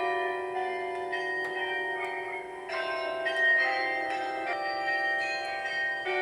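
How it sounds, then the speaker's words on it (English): Belfry carillon bells at Capelle-la-Grande near Saint-Omer, played by hand and chiming Handel's Water Music, ring out a moderately faint melody of clear, overlapping bell tones with a lingering, resonant hum. "still operates the belfries chimes at Capelle-la-Grande, near Saint-Omer, manually"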